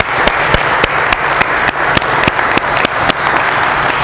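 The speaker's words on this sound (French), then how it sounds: "On peut les applaudir." Audience applause at an abbey community gathering: a dense, steady round of clapping with sharp individual claps standing out, close and continuous for the whole stretch, with no talking.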